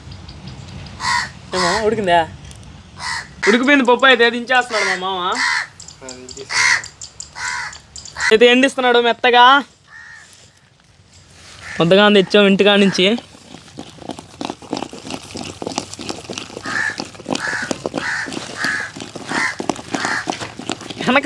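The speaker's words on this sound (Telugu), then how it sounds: "వెనకాల కాకి ఒకటి వాదుకాల అరుస్తున్నది" A crow caws repeatedly in the background outdoors, harsh rhythmic calls in several bursts, heard clearly amid people talking nearby.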